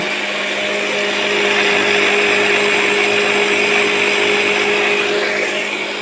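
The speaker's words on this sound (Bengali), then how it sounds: "আর এখানে যে আমি এখন খাদ্যটা ব্লেন্ডার করতেছি বাচ্চাকে খাওয়ার জন্য।" A kitchen blender grinds quail chick feed into powder, a steady loud motor whir running continuously through the whole stretch with no talk over it.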